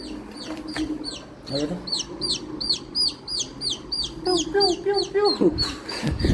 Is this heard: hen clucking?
yes